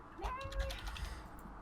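A person imitates a cat's meow with a short rising vocal mew, faint amid background chatter during an online game of Blood on the Clocktower.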